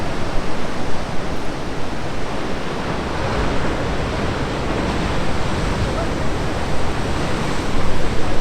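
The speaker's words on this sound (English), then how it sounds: "we took a moment to come to the village of the Nazare to admire the big waves" Big ocean waves at Nazaré give a loud, steady broadband roar of surf, mixed with wind buffeting the microphone, continuous from start to end.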